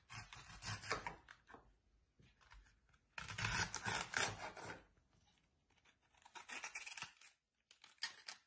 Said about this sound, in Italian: Puliamo e tagliamo i finocchi a spicchi.